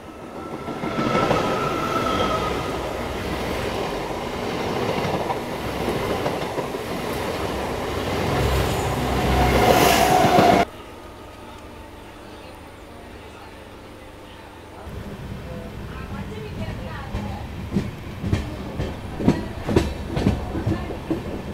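An express train running between Kollam and Tirupati on the line near Ernakulam, heard as a loud rumbling roar that drops off abruptly about halfway through, followed by quieter rhythmic clatter toward the end.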